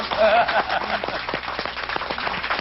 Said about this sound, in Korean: 박수 좀 쳐드리고요